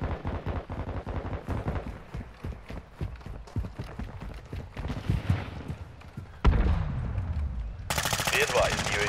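Rapid automatic gunfire in Call of Duty: Modern Warfare II multiplayer, sharp rhythmic shots crackling in a long steady burst, then a louder, denser stretch of combat noise near the end.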